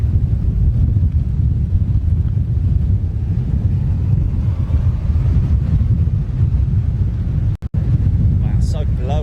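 Strong wind buffets the microphone outdoors at Heathrow Airport, a steady loud roaring rumble that runs almost the whole time, dropping out briefly near the end.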